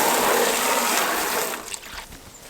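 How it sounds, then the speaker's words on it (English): Water gushing from a garden hose outdoors, a strong steady rush that tapers off and fades quieter toward the end, with no talking. "I turned the hose on."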